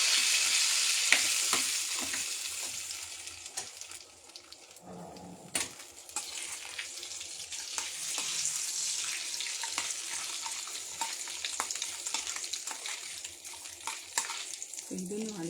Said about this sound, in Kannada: ಸೊ ಗೋಡಂಬಿ ಒಗ್ಗರಣೆ ಮಾಡ್ಕೊಳ್ತೀನಿ